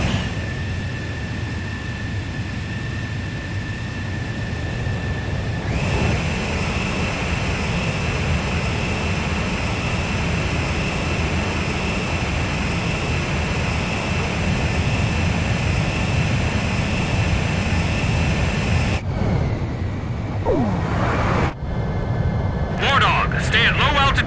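Jet engine roar in the Ace Combat 5 video game during in-flight refueling behind a tanker, a loud steady drone with a tonal whine, shifting near the end; a voice speaks over it.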